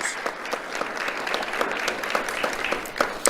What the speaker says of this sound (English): Let's have a round of applause for our volunteers